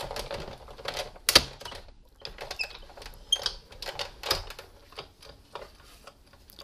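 A Big Shot die-cutting machine is cranked to cut cardstock, giving a close run of rapid ratcheting clicks and ticks with one sharp loud snap early and a few firmer knocks.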